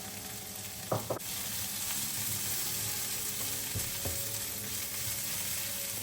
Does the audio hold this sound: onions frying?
yes